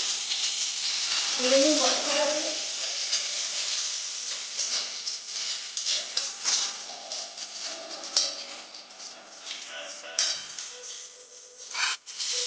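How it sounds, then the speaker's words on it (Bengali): Dried chilli, whole garam masala, five-spice and a bay leaf sizzle in hot oil in a kadai, steady close hiss and crackle beneath quiet talk. "এই কড়াইয়ের মধ্যে আর খানিকটা তেল দিয়ে দিচ্ছি। এর মধ্যে একটা শুকনো লঙ্কা, গোটা গরম মশলা, 5 ফোড়ন, একটা তেজপাতা দিলাম।"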